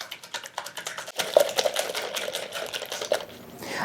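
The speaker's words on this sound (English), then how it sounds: "You're just going to beat this until the eggs are nice and frothy." Eggs being beaten until frothy for a low carb lava cake, a rapid rattling, clicking whir of beaters against a bowl, steady and close, with a brief louder burst partway through.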